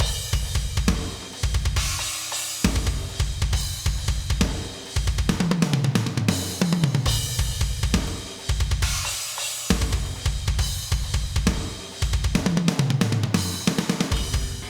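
A programmed drum beat plays with punchy kicks and hard, full-velocity accented snare backbeats, steady and loud, layered with synth tones and no voices.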